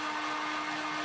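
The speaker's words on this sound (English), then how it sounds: "No, that's not a hair dryer, that's a heat gun, which is quite a power tool" A heat gun blows with a steady, loud whirring roar and a faint tonal whine, unbroken for about a second.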